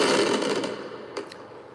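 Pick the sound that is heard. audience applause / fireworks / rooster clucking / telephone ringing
fireworks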